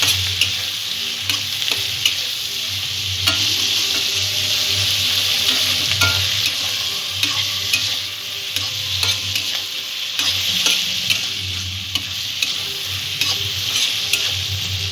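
Spices and onion shoots sauté in a pan, giving a loud, continuous hissing sizzle with frequent stirring scrapes and crackles from start to finish, and no one talking.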